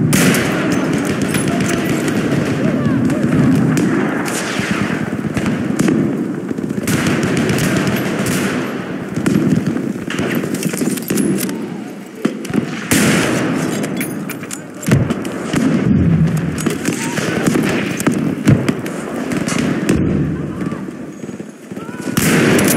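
Sustained gunfire and explosions in the video game Battlefield 5 on the Underground map in Breakthrough mode, with loud continuous rattling bursts, booming blasts and in-game voices shouting throughout.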